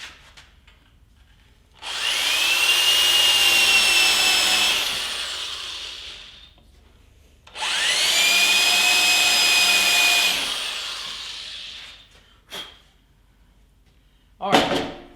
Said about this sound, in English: so I've countersunk both of those holes.